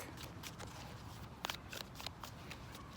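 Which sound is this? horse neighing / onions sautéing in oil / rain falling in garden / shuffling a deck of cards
shuffling a deck of cards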